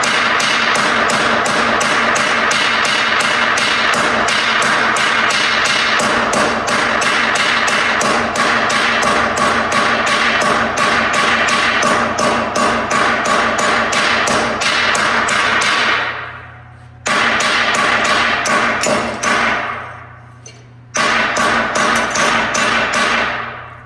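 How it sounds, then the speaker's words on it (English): A hammer strikes the rolled edge of a metal fender flare in rapid, loud, evenly spaced metallic blows, continuing for many seconds before pausing twice and resuming. "take it out with a hammer."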